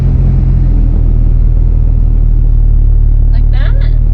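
A Toyota Supra engine rumbles low and steady at idle while the clutch is let out, with a brief voice near the end.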